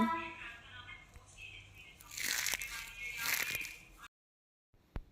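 A handful of crispy thin poha chivda is crunched and rustled in a palm, giving close, dry crackling bursts that swell and fade over a few seconds before cutting to silence.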